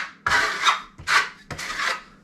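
A steel trowel spreading Venetian polished plaster across a wall, giving three distinct rasping, scraping sweeps, each a loud, close rub with short pauses between, and no voices.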